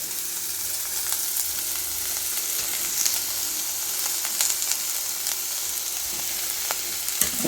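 Slit green chillies fry in a pan of hot oil for fish curry, a steady, even sizzle filling the whole stretch with occasional small pops and stirring clicks, no talking.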